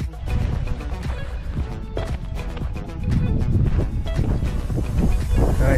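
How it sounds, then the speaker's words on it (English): Strong wind gusting at Cape Spencer Lighthouse on the Yorke Peninsula coast of South Australia, a loud, constant rumbling buffet against the microphone that swells stronger in the second half. "Pardon the wind."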